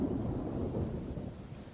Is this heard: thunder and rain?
yes